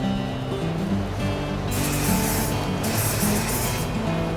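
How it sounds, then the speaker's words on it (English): Extra virgin olive oil cooking spray hisses in two bursts onto a hot pan before cooking a burger patty, a longer spray then a shorter one, close and loud over a low sizzling hum. "you're going to need to lightly grease it up using an extra virgin olive oil spray."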